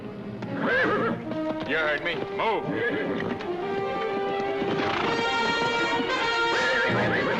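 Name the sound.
horse neighing and hooves clip-clopping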